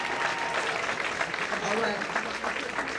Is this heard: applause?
yes